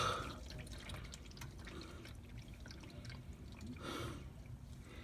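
Old engine oil draining from a 2001 Nissan Maxima into a pan, a steady faint liquid trickle and patter with no talk.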